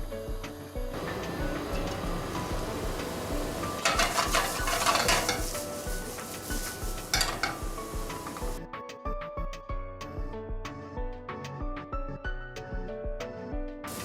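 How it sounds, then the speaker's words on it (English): Onions sizzle in oil in a large pan, stirred with a utensil that scrapes and clinks; the frying is busy and dense at first, then becomes sparser, with sharp repeated scraping taps. "Add oil to the large pan and cook the onions a little."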